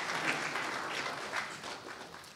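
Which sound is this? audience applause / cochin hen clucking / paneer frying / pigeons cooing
audience applause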